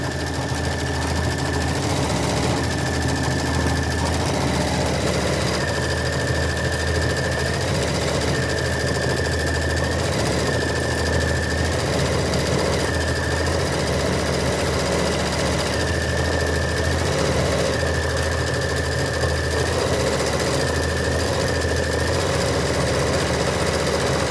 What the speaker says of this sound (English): Just sewing everything all together.